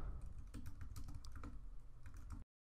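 Computer keyboard keys, the bracket keys, tapped repeatedly while resizing a brush in Photoshop, a quick irregular run of close, light plastic clicks that stops abruptly.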